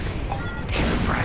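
Bombs dropping and exploding in the space combat game Star Wars Squadrons, a dense rumbling burst of blasts that swells sharply halfway through, loud and close.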